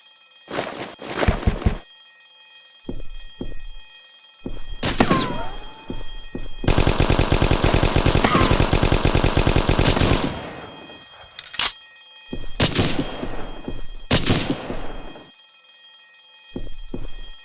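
Sustained machine gun fire in the modded video game Hidden & Dangerous Deluxe, a long rattling burst of rapid shots following several shorter bursts and single loud reports, close and dominant with no talk.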